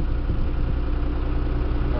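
A 58-horsepower 5320 tractor engine pulls an 8-foot mower through thick, waist-high grass, giving a loud, steady low rumble from close by with no talking.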